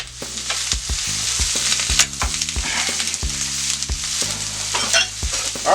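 Chicken fajitas sizzle steadily on a Steelmadeusa griddle, a loud continuous hiss broken by repeated scrapes and clanks of a spatula stirring the meat, with no talking.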